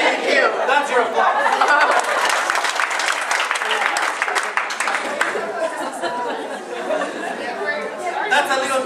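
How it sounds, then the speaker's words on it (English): Lively applause from a classroom audience at an end-of-year Fulbright presentation in Chicago, steady and close, mixed with chatter and scattered chuckles throughout. "That's your applause."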